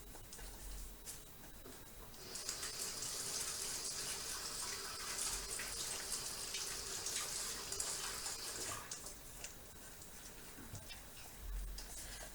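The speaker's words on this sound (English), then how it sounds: "I'm over here washing my hands because after you use raw egg, we always want to wash our hands." A kitchen tap runs in a steady, full stream for several seconds while hands are washed after handling raw egg during banana muffin baking, rising in and then dropping away at the end.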